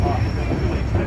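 A train passes close by on the Royal Gorge route, a loud, steady rumble with rolling rail noise that continues without a break for the whole moment.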